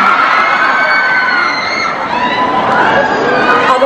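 Concert crowd cheering and shouting with applause at a large live show, a loud continuous roar of voices and clapping with no pause.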